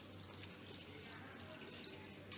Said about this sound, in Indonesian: Buka keran air, basahi tangan.